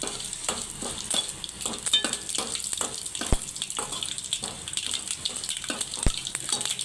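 Farm chicken fry sizzling in a pan, a steady close crackle of hot oil broken by repeated scraping stirs, with no voices.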